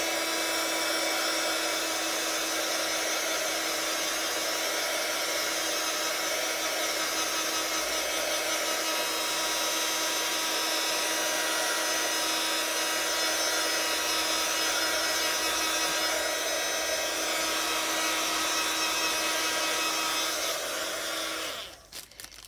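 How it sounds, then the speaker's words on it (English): A heat gun blows steadily for about twenty seconds at an even, loud whooshing hum with a constant fan tone, used on a craft page, then cuts off abruptly at the end. "So I've got my heat gun."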